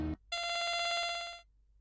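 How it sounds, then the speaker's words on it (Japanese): Telephone ringing in the horror game Yuurei Yashiki: a single bright, rapidly trilling electronic bell burst lasting about a second, loud and close, with no voices over it. "電話が鳴った。"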